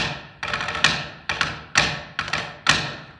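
A snare drum plays a crisp 6/8 cadence pattern, sharp hits landing in pairs and clusters with doubled flam grace-note strokes, loud and close with no voices.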